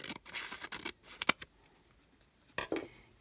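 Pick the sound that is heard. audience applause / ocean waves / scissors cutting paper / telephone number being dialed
scissors cutting paper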